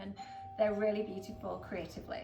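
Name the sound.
doorbell ringing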